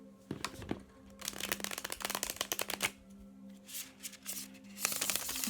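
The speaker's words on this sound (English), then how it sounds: "To see how beautiful that shuffles" Tarot cards are riffled and shuffled close by in several quick bursts of crisp flapping and clicking, with short pauses between them.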